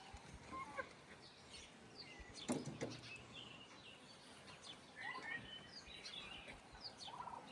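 Turkeys on a village farm gobble as they chase chickens, with scattered gobbles and bird calls at moderate distance and a louder burst of calls midway.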